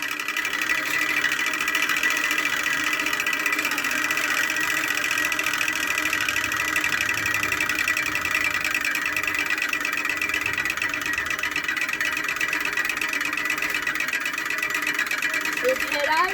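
A small homemade engine idles steadily, a close, even, rapid mechanical chatter with a buzzing drone that holds constant throughout without pauses.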